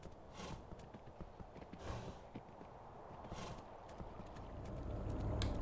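Steady clip-clop of a horse's hooves walking in the Kingdom Classic video game, a regular rhythmic trot carrying on throughout at moderate loudness over a low ambient bed, with no talk.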